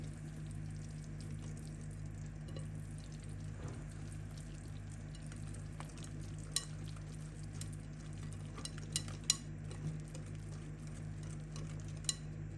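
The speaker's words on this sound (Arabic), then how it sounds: "غادي نحرك كلشي مزيان مزيان" Chocolate cake batter made with water and oil, without eggs or milk, is stirred by hand in a bowl, giving a soft, steady swishing and scraping with a few faint utensil taps against the bowl, with no talking.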